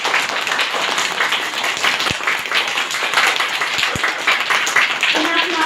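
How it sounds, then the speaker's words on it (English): Children in a nursery class clap together in a steady, continuous patter, with a few sharper taps standing out and an adult voice speaking faintly near the end. "Clapping for ones."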